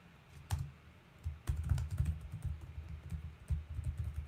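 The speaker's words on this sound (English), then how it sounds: "typing these things out" Keys clatter on a computer keyboard in bursts of quick taps, close and fairly soft, with short pauses between runs of typing.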